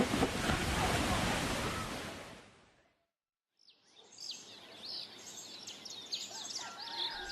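Huge tsunami waves from the 2004 disaster in Indonesia roar loudly along the coast for about three seconds, then die away to silence before wind and faint birdsong take over.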